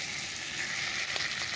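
A spice paste for an alu-begun-tomato fish curry frying in a pan, a dense steady hiss with faint stirring scrapes, close and continuous with no voices.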